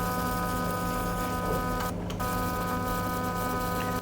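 A pico laser tattoo removal machine runs in a tattoo removal clinic, giving a steady, close electronic hum and buzz with a brief dip in its hiss partway through. No one speaks.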